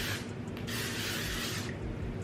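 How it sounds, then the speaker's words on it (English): Hairspray hisses from an aerosol can onto a 28-inch body wave HD lace wig in one steady, close spray lasting over two seconds. "I'm about to just spray my hair with some hairspray one more time"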